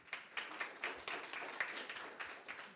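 A small audience claps hands at a Tamil youth forum event, faint, scattered, uneven claps in a short patter that lasts under three seconds.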